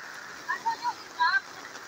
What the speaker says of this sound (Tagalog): Ang lakas na ulan